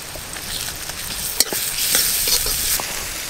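Garlic paste fries in hot mustard oil with chopped onion in a wok, a continuous close sizzle broken by a sharp utensil knock and scraping stir strokes.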